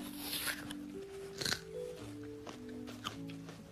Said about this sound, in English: Here comes the celery.